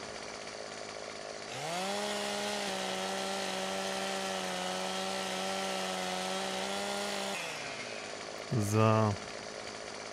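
A chainsaw in the farming game Landwirtschafts-Simulator 15 revs up and cuts logs with a steady, loud buzzing drone for about six seconds, then winds down, followed by a short rising revving burst; someone speaks briefly.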